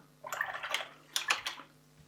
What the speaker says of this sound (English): Rinse your brush out. Clean water again, away from the area.